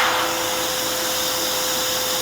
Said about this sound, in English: So on with the low power with the funnel.